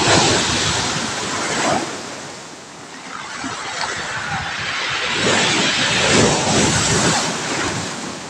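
Strong sea waves churned up by a typhoon, a loud, continuous roar of surf that surges and eases in broad swells, mixed with heavy wind buffeting the microphone and no voices.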